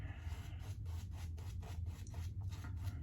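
Brush lathering shaving soap directly on the face during a wet shave with a Gold Sector razor, a steady rhythmic scrubbing with repeated strokes roughly every third of a second, close and fairly quiet, with no talk.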